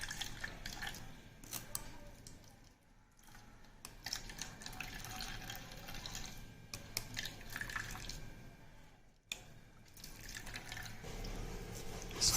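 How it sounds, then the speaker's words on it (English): Ground coconut squeezed in a strainer to press out milk, with wet, quiet squishing and trickling liquid dripping into a bowl, soft and close, with brief pauses between squeezes. "Squeeze out all the milk"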